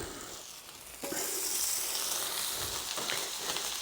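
Bacon sizzles loudly on a hot plancha inside a pizza oven, a steady crackling fry that jumps up sharply after a quieter start and keeps hissing close by, with no talking.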